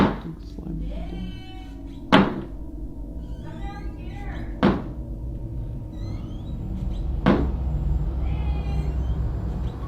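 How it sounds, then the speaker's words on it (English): Door slamming in a house in the morning, three sharp loud bangs spaced a few seconds apart over a low steady hum, with faint meow-like cries between the slams. "something slamming the door"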